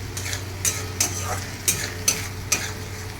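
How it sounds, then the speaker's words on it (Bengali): Green soybeans fry in oil in a pan while a utensil stirs them. A steady sizzle runs underneath a run of sharp scraping strokes at an uneven beat, heard up close. "এবার আমি এটাকে ভালো করে কষবো যতক্ষণ না কাঁচা গন্ধটা যাচ্ছে এবং তেল ছেড়ে দিচ্ছে"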